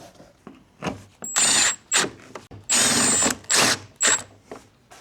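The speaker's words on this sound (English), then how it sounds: "So I'm only popping them 2 screws in." A power tool drives screws into the bumper of a Volkswagen Mk5 Golf GTI, with about five short, loud whirring bursts separated by brief pauses, heard up close.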